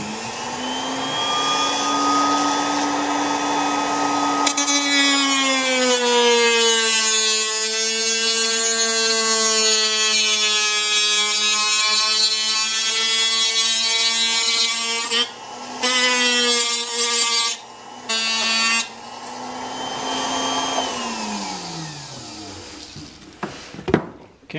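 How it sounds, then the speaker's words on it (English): A high-speed rotary tool cuts through a steel tractor PTO shaft for an RK25 tractor, a loud, close, sustained whine that rises and dips in pitch under load, with brief interruptions before winding down. "Since I have this rotary tool, I thought maybe I would try that first."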